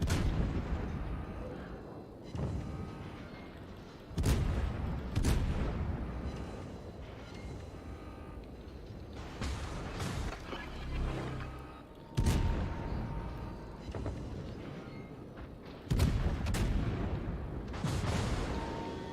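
Naval gunfire from the Moskva cruiser in World of Warships, heavy booming salvos firing at irregular intervals, each a loud sharp blast with a rolling tail over continuous battle rumble.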